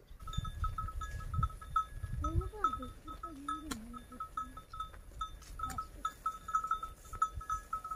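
Sheep grazing along a grassy roadside in a village give a few wavering bleats near the middle, amid steady outdoor ambience with faint bell-like tinkling and light rustling throughout.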